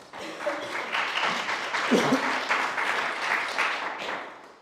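An audience at a live judging event gives the judges a round of applause, a broad, fairly soft wash of many hands clapping throughout, with a brief voice audible partway through.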